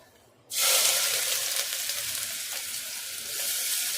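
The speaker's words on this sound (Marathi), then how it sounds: "इथे जो बारीक केलेला जो कांदा आहे तो टाकते मी सगळ्यात पहिले" Finely chopped onion drops into hot oil for a tempering while making chicken soup, bursting into a loud, steady sizzle after a brief quiet start and crackling on close by without pause.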